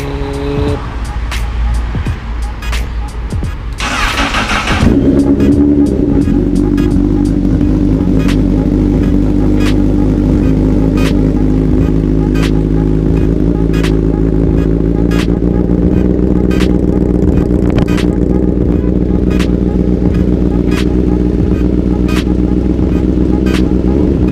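A Honda CBR1000RR sport motorcycle with a loud aftermarket exhaust fires up and holds a loud, rough, rumbling idle for a long stretch, close by, with faint sharp ticks throughout.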